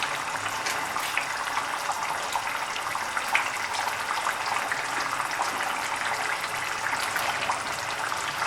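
Water is poured steadily into a pan of fish curry, making a continuous close splashing gush that keeps an even level throughout.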